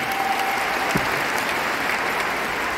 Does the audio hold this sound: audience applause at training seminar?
yes